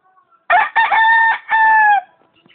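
A rooster crows loudly and close by near gamefowl pens: one long, harmonic call broken into several surging segments, with faint background sounds before and after.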